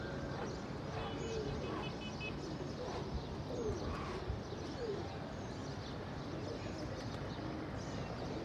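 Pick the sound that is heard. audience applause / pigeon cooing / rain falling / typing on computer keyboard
pigeon cooing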